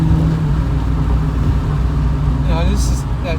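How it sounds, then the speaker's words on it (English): A loud classic car exhaust drones steadily at close range with a low, continuous rumble, while someone talks over it throughout. "this car is just really loud, so I'm sorry if you can't hear me that well"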